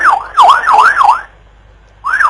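A police radio car siren wails in repeated rising-and-falling sweeps, loud and close, then drops away briefly before another wail returns, with no voices over it.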